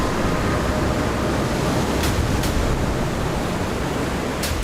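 A waterfall along a mountain trail in the Kinnaur Kailash area, heard as a steady, loud, broadband rush of falling water that fills the whole stretch without any change.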